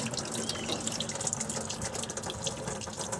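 Coolant gushes steadily from an opened radiator drain cock beneath a 1991 V2500 truck, a continuous close splashing stream of liquid with no voices.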